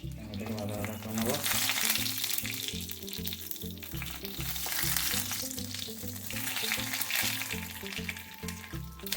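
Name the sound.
panch phoron, bay leaf and dry chilli frying in hot oil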